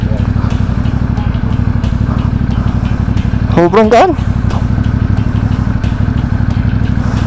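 A CF Moto 450MT motorcycle engine runs with a steady low pulsing thrum during a test ride, loud and close, with a brief rising rev in the middle and someone speaking over it.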